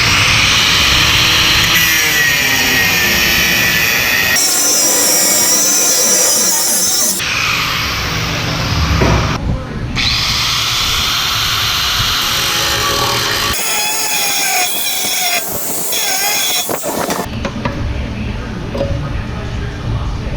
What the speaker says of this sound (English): I'm going to cut off this tab right here and build a new tab on the back with just a hole in it